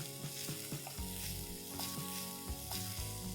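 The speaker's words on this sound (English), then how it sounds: "Cook the tomatoes till they are nice and soft" Finely chopped tomato frying in a pan for palak gravy, a steady close sizzle with soft stirring scrapes and light spatters, no voice over it.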